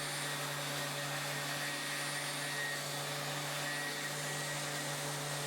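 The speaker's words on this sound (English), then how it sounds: "I'm just going over everything with a 180 grit sandpaper" Sanding over a wooden project with 180 grit sandpaper, heard as a steady, continuous broadband whir with a constant low hum, probably a power sander running without pause at moderate loudness.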